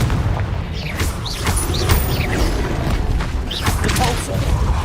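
Confringo spell blasts in Hogwarts Legacy, several dull booms and whooshing bursts spread across a dense, rumbling combat background with rapid casting effects layered throughout.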